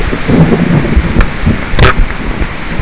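Heavy rain pours steadily through a thunderstorm, loud and close. Low thunder rumbles and a sharp crack break through the dense hiss.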